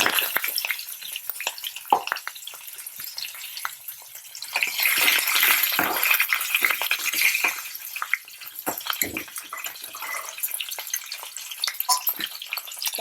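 Ginger and green chilies sizzle steadily in hot oil for a pumpkin subzi, a dense continuous frying crackle with brief swells and occasional pops, close and alone.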